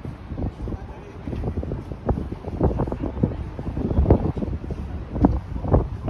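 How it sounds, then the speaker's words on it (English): Strong wind gusting across the microphone atop Rockefeller Center in New York City, a continuous rough roar that rises and falls in buffeting surges throughout. "it's getting too windy"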